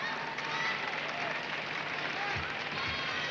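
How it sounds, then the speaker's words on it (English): A crowd at the 1999 women's gymnastics world championship team finals fills the arena with steady, sustained applause and cheering, a dense wash of noise that carries on throughout. "as you hear that crowd, they are really into this competition"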